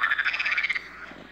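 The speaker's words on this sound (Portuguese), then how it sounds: "Olha só, o sapão." A frog croaking in the Minecraft Terracotta Expansion addon, a rapid series of nasal, buzzing pulses close up for under a second, then fading into quiet.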